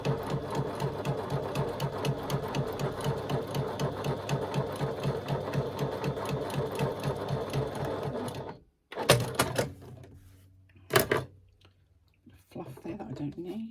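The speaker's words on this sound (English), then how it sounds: "I'm going to stitch this fold in place using 1/8 of an inch seam allowance." A sewing machine stitches a fold in fabric with a narrow seam, a steady close rhythmic chatter for about eight seconds, then stops, followed by a few scattered clicks and handling noises.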